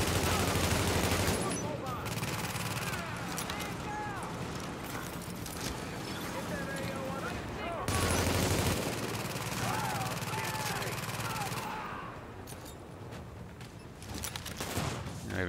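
Automated turret in The Division firing down a corridor: dense bursts of rapid gunfire roll on and off in long stretches, loud and close, with game ambience and a voice speaking over parts of it.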